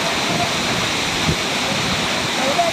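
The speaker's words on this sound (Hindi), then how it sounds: "देखिए पूरा झरना यही है।" The Bhavli waterfall roars as a steady, loud broadband rush of falling water, constant and close throughout with no distinct breaks.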